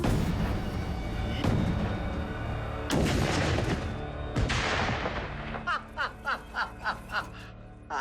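A series of loud, sharp dynamite blasts blowing up a car erupts in bursts, followed by a rapid string of crackling pops that fade out.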